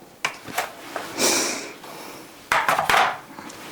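A whisk clinks and swishes against a bowl while stirring powder, in a few short scraping bursts and taps, close by, with no talking.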